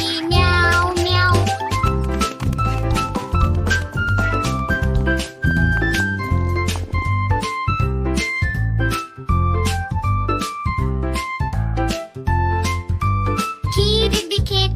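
A playful cat meow, seemingly sung or voiced in imitation, repeats rhythmically over bouncy instrumental music in a Hindi children's nursery rhyme.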